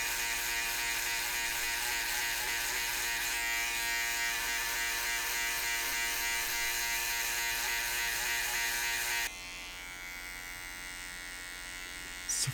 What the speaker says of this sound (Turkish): Bunun için ben Brown seri 5 makinemi kullanıyorum.